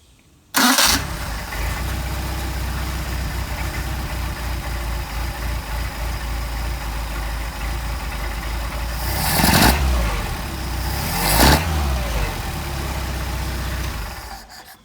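A Mercedes 190SL engine with Solex carburetors hot-starting, catching quickly and settling into a steady loud idle, with two sharp revs blipped near the end, heard alone.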